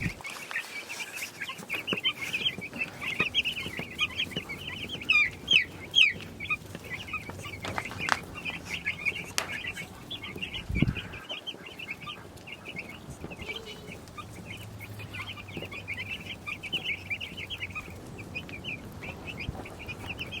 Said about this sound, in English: the chicks are having fun and they're loving it. They're fluttering around,